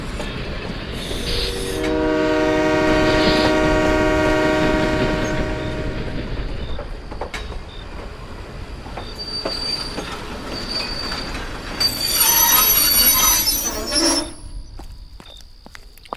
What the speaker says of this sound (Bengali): কিছু সময় পরেই একটা ট্রেন এসে থামল।